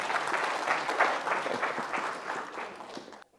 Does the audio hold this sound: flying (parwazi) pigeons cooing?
no